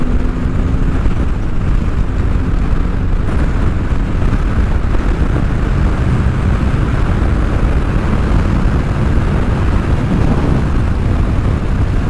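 A 160-horsepower motorcycle engine roars loudly and steadily throughout, a dense continuous drone with a wind-like rumble and no voices.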